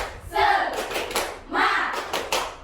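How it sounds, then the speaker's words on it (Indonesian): A primary school class plays the 'tepuk semangat' clapping game, with two quick bursts of hand claps and voices chanting along in rhythm, moderately loud in a classroom. "Ayo, 1, 2, 3. Tepuk semangat."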